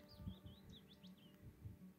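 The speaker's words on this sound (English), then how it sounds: "there's nothing but sound of the wind and the birds" Small birds on the Skye Trail chirp and whistle in quick rising and falling phrases, fairly close and clear, over a soft, steady murmur of wind in a quiet coastal setting.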